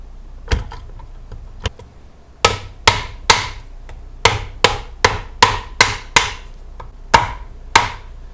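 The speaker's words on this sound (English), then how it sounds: "You can hear that definite ping once it's in there all the way." A bearing hammered onto the main shaft of a Jeep T150 transmission from a 1979 CJ5, a series of sharp metallic blows with a ringing ping, about a dozen strikes in irregular rhythm, close and loud with no talk.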